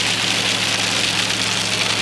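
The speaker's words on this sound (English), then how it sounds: "I'm definitely starting to see snowflakes mixing with the rain here and seeing bigger splats on the windshield" Rain mixed with snowflakes strikes a truck windshield as a steady, close hiss of patter over a low, constant engine rumble.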